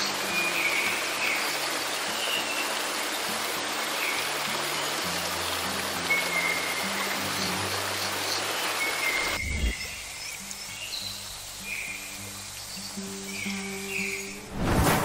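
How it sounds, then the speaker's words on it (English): Continuous broadband rushing of Angel Falls in Venezuela, the world's highest uninterrupted waterfall, a steady roar that drops abruptly to a quieter wash partway through, with no voices. "inviting you to witness the world's highest uninterrupted waterfall, a breathtaking display of nature's power"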